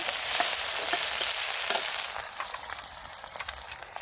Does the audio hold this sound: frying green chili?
yes